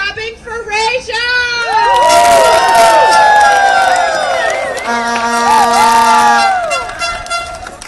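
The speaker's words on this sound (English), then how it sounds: "Please start clapping for Rachel." A crowd of Starbucks workers at a rally cheering loudly, with whistles, shrieks and horn-like toots layered over a sustained roar of voices, close and dense for several seconds.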